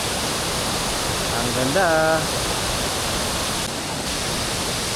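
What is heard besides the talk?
Tagbibinta Falls waterfall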